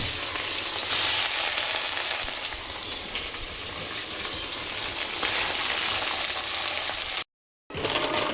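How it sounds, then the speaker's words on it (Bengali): Fish sizzling and spitting in hot mustard oil in a home kitchen, a steady close frying hiss that runs unbroken, then a brief dropout near the end before the sizzle resumes. "এবার মাছ ভেজে নেব"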